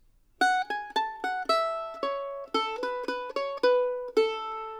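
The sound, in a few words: mandolin playing a melodic phrase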